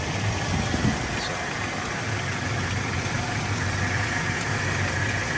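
A 1998 Toyota Tacoma SR5 extended cab with a 2.4L four-cylinder and 5-speed idles steadily, a close, even mechanical hum with a faint vibration running without a break.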